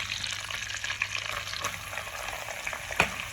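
Onions fry in a pan, a close, continuous sizzle with a couple of brief knocks of a spoon or pan, no voices.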